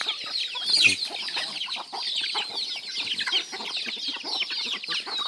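Chickens cluck and chatter close by in a village yard in the morning, a busy overlapping stream of calls with one louder squawk early on.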